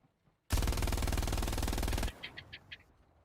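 In Hell Let Loose, a braced machine gun fires a loud sustained burst of rapid rounds for about a second and a half, then stops abruptly. A few sharp metallic clinks follow.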